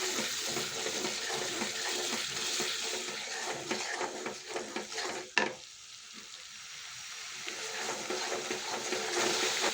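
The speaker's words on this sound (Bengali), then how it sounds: "পানি দিয়ে কষিয়ে দিই।" A spice mixture of ground coriander and chilli sizzles loudly while being stirred, then water splashes in and the frying hiss drops quieter before slowly building again.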